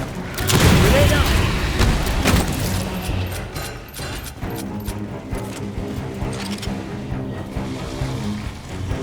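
A grenade goes off in Aliens: Fireteam Elite with a heavy boom early on, followed by gunfire bursts, sharp mechanical clicks and thuds in a loud, busy combat mix that keeps running for several seconds.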